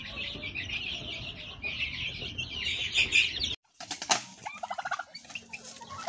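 A heavy meat-type hen weighing about 3.75 kilos flaps its wings in a backyard, a few seconds of busy fluttering and rustling that stops abruptly, followed by softer scattered wing beats and clucking-like bursts nearby.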